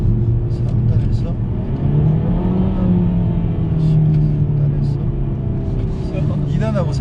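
A Renault Samsung SM6 with a 1.6 TCe gasoline engine revs from inside the cabin, its tone climbing and sliding as the car accelerates, a close, steady engine drone with brief faint voices over it.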